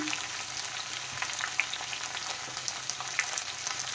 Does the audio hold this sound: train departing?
no